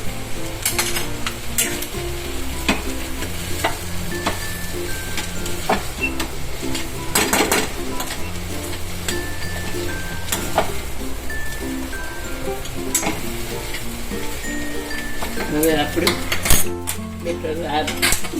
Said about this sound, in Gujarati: આવી રીતે સરસ રીતે ચલાવી લેવાનું છે